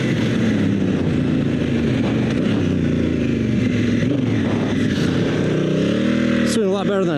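Adventure motorcycle on Bridgestone Battlax A41 tires churning through deep sand, engine droning loudly and rising and falling in pitch with throttle, while a rider talks over it.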